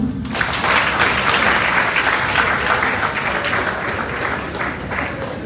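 An audience at a celebration program applauds, starting abruptly and continuing as a dense, even roar of clapping for over five seconds.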